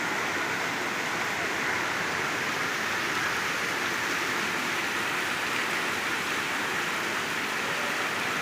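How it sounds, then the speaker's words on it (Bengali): Heavy rain pours down in Chennai as a dense, even, continuous wash of noise, loud and steady with no voices. "প্রচুর বৃষ্টি হচ্ছে চেন্নাইতে।"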